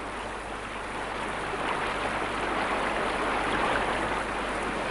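A river stream flows in a steady, even rush of water that holds at a constant level from start to finish, with no voices.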